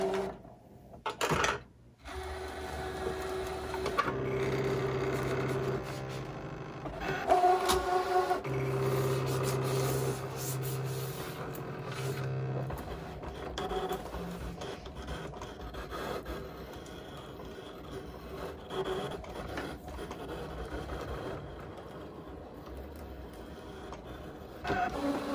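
A Brother craft cutting machine slicing vinyl on a mat hums and whirs steadily for a long stretch, its motor tones shifting as the blade carriage shuttles back and forth, with occasional soft clicks and rubbing.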